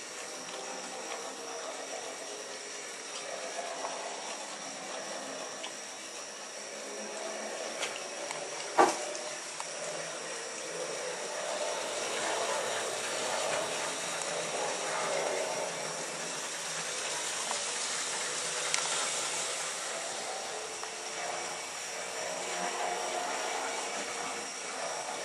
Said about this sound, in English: That is a handsome little locomotive, isn't it?